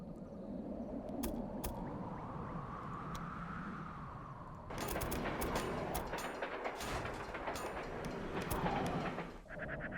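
Long steam-era freight train rolling in the railroad game Railway Empire, a steady low rumble with rail clatter that swells into denser clacking noise partway through, continuous and fairly close.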